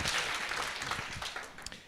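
A church congregation claps briefly for God during an online worship service, a short, fairly faint burst of applause that fades within two seconds.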